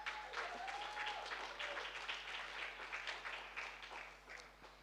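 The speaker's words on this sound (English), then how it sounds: "can we just give a massive round of applause before we do kick up?" Audience applause for a panel at a climate-focused summit in Rome, fairly faint and distant, a steady patter of many hands without voices.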